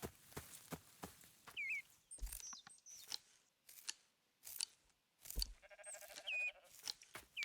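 Sheep bleat in the video game Rising World, one clear wavering bleat and a few shorter calls among sharp repeated snipping clicks. The sounds are close and intermittent, with quiet gaps between them.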